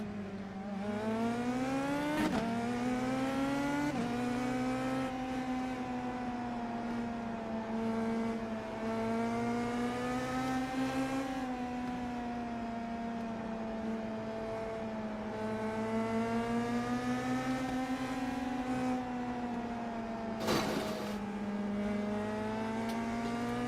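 A racing car engine in a video game, idling and blipping while the tyres are warmed, drones as a steady, close harmonic hum whose pitch drifts gently up and down, with a brief sharper burst near the end.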